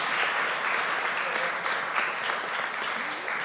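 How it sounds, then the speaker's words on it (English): Applause from an audience honoring ironworker apprentices at a union training announcement, a dense, steady wash of clapping from many hands, continuous and moderately loud throughout. "So let's have a round of applause for apprentices."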